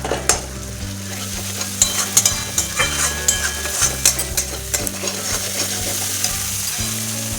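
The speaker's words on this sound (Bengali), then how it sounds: "এবার অল্প অল্প আঁচে ভালোভাবে মশলাটা কষাইছি।" Spice paste being stirred and fried on low heat for a Bengali-style vegetarian cabbage kofta curry, with a continuous sizzle and repeated scraping strokes of a spoon against the pan, close up and without talk.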